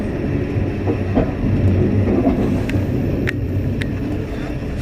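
A CP Holiday Train passenger train rolls along the tracks with a loud, steady rumble and rattle, with occasional squeaks and clicks.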